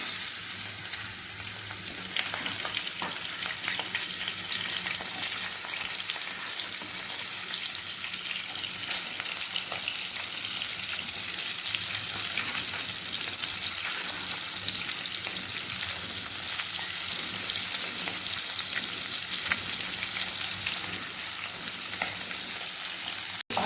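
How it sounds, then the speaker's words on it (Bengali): Prawns frying in hot mustard oil, a dense, even sizzle that carries on steadily for the whole stretch, close and fairly loud, with no talking over it. "তেলটা খুব ভালোভাবে গরম হয়ে গেছে একে একে সব কটা চিংড়ি মাছ দিয়ে দেবো"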